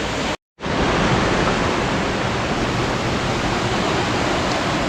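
A rushing waterfall along a rugged coastal trail, a loud steady broadband roar that cuts out for a split second near the start and then continues unbroken.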